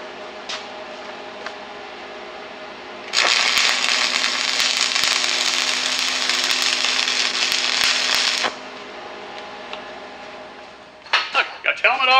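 Arc welding with a 7018 electrode rod: a loud, steady crackling sizzle that starts abruptly, holds for about five seconds, then cuts off, with quieter shop noise around it.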